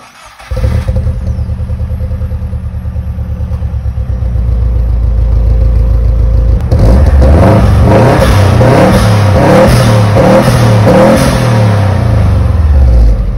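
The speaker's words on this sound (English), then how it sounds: "we'll have a small B-roll of the car idling a bit and also revving if Gavin is okay with it." A Subaru Forester STI Type 2M Heritage Edition wagon fitted with an STI Genome exhaust idles with a low, steady burble, then revs repeatedly in loud, rising and falling bursts, heard up close with no talking.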